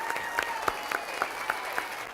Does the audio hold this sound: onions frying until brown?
no